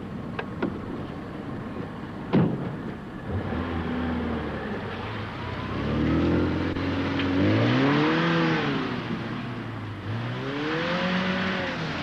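A car drives through puddles, its engine rising and falling in pitch as it passes nearby with a steady wash of road and water noise, and no voices.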